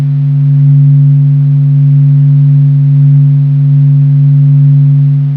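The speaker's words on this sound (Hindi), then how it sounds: "नासा ने अपने एडवांस्ड साउंड रिकॉर्डर से सूर्य की आवाज रिकॉर्ड की है" A loud, steady low drone with unchanging tone and no breaks is presented as a NASA recording of the sound of the sun.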